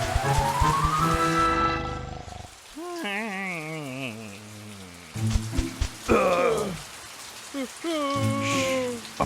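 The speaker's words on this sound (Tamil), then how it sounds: "படு பயங்கரமா மழை பெஞ்சுக்கிட்டு இருக்கு" Heavy cartoon rain pours down in a steady wash beneath bright music and animated character voices that rise and fall throughout.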